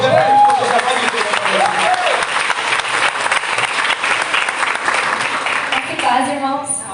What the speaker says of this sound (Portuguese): Dá uma aplauso para ele